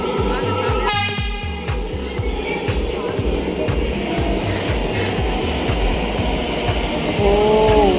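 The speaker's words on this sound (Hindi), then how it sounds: "मैं मेट्रो रेल में बैठी हूँ" Inside a moving Hyderabad metro train, a steady rumbling hum and rhythmic running noise fill the car, with a short horn-like tone near the start and another rising tone near the end, and a voice heard at moments.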